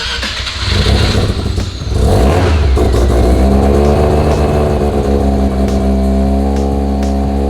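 A loud rotary engine starts and revs up, climbing to a high-pitched buzzing whine that holds steady and close, with a smooth, raspy tone.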